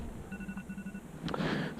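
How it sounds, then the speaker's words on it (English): A phone alarm rings faintly with short repeated electronic tones outdoors at night while fishing for channel catfish, followed by a brief rustle. "there is my alarm on my phone"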